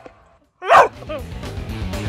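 A dog named Kai lets out a single sharp bark after a quiet moment, followed by softer whimpering yips and a faint voice underneath.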